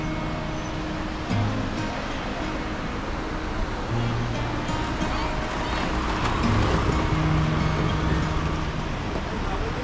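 Ocean waves wash onto the seashore along the Konkan coast near Kunkeshwar, a steady broadband surf roar that swells slightly in the second half, with faint road or engine hum underneath and no talking.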